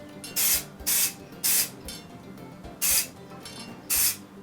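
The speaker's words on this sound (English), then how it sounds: "So, my hand is quite a distance. I'm spraying from up high." Short bursts of aerosol spray primer mist onto a Warhammer miniature from a distance, five crisp hissing puffs at uneven intervals with quiet gaps between.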